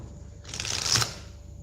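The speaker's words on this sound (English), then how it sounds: "Going to give the cards a little bit of a shuffle." Tarot cards being shuffled in a single quick riffle of about half a second, a soft papery rustle, close and fairly quiet against a faint background hum.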